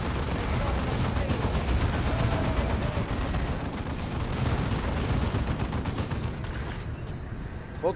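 Automated turrets fire in Warhammer 40,000: Dawn of War II, a dense, continuous rattle of gunfire and distant blasts that tapers slightly toward the end.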